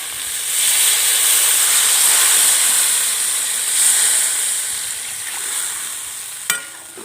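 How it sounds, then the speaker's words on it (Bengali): Water poured into a hot pan of fried spiced fish curry with potato and green banana bursts into a loud hissing sizzle that slowly settles into a softer bubbling steam, ending with a brief metallic clink. "এবার আমি জল দিয়ে দিচ্ছি।"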